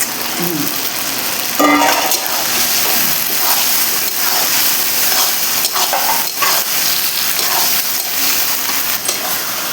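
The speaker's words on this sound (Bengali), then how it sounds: "এখন এর মধ্যে আমি আলুটা দিয়ে কষাবো, আলুটা দিয়ে কিছুক্ষণ কষাবো।" Potatoes frying in oil with spice masala, stirred in a pan: a constant bright sizzle and hiss broken by scraping and clinking of the spoon against the vessel, close and loud.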